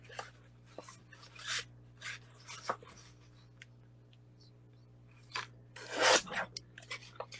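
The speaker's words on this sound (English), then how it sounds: "I'm trimming out 2 strips that are 1/2 inch" Scissors snipping half-inch paper strips for a mini album, a quiet scattering of short rasping cuts separated by pauses, with a low steady hum underneath.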